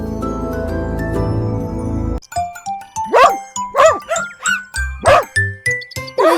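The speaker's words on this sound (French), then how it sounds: "Le chiotin aboyait et remuait la queue de joie." A cartoon puppy in a children's nursery song gives a run of bright, evenly spaced yaps over a tinkly musical backing, loud and close, following a stretch of music alone.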